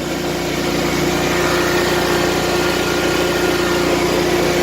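A riding lawn mower's engine runs at a steady idle-like drone throughout, loud and continuous with a constant hum and no talking.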